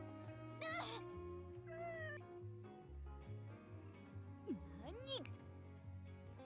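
A cat meows twice, sharp and rising, in the video game Nights of Azure, heard over a steady game music background with voice activity mixed in.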